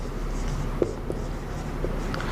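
A pen or pencil scratches faintly on paper while a number is written by hand, a few soft, short strokes over a steady background hum.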